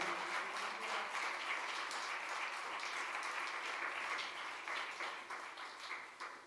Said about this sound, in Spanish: Denle un fuerte, fuerte, fuerte aplauso al Señor